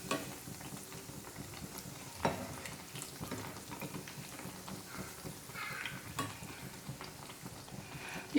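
Vettu cake, a Kerala egg cake, frying in hot oil in a pan, giving a steady low crackle with occasional louder pops and clinks, fairly quiet and without speech.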